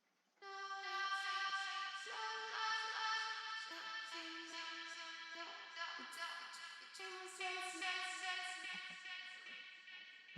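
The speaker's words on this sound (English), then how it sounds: "The delay is just phrases from the lead vocal chopped up to sound" Chopped lead vocal phrases in an EDM mix, run through a delay effect, sound as bright, sustained tonal notes that shift pitch in steps and trail into repeating echoes, steady and fairly quiet, with no talking.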